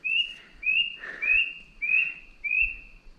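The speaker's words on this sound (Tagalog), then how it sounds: "pakinggan nyo yung pito ng ibon" Bird in the mountains before dawn whistling a series of five clear, slightly rising notes in a steady rhythm, close and distinct against a quiet background with faint low rustling.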